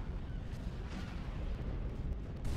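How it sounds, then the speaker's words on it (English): Hyper velocity cannon firing in the Star Wars Empire at War space battle game, heard as a dense, continuous roar of heavy booming blasts that stays loud throughout with no talk over it. "Hyper velocity cannon firing."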